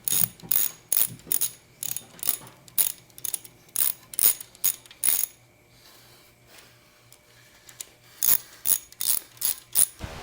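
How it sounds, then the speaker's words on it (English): Ratchet wrench tightening 13mm bracket bolts on a Saturn engine during a rebuild: close, loud bursts of rapid clicking in repeated strokes, a quieter pause in the middle, then more clicking bursts. "And then we'll tighten down the brackets. And I believe these are 13mm."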